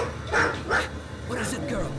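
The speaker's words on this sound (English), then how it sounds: "Maybe one of my boxes spooked the dog." Dog in the video game Road 96 giving a few short yips and barks, two quick close bursts followed by a longer whining call.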